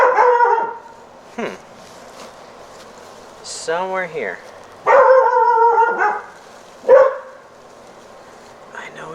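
A dog barks indoors in a few short, loud bursts that break through ongoing talk. Faint yips and one whimpering, wavering call come between the barks.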